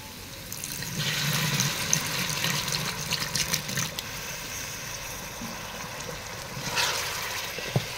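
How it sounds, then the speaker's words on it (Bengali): A little water is poured into a pan of eggs being sautéed for egg biryani, a steady gushing, hissing splash that runs for several seconds, rises again briefly near the end and is heard close up without talk. "ডিমটা কিছুক্ষণ কষিয়ে নেওয়ার পরে আমি এখানে সামান্য একটুখানি জল অ্যাড করব"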